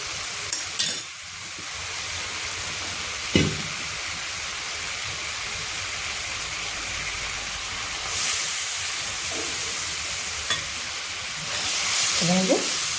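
Garlic, chili and black mustard seeds fry in a hot pan with a steady low sizzle, punctuated by a few clanks and scrapes of a utensil and brief louder spitting bursts.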